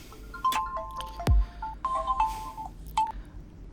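Telephone keypad dialing tones beep one after another in a short, uneven sequence, clear and close, with a brief low thud partway through and no talking.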